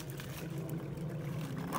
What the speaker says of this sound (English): And this stream sounds so good.